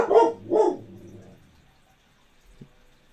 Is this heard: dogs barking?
yes